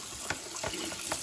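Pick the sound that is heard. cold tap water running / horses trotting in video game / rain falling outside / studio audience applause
cold tap water running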